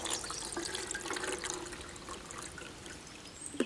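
A flameless heating pad placed in a bowl of water with eggs, giving a soft continuous watery fizzing and trickling close by, with a small clink near the end.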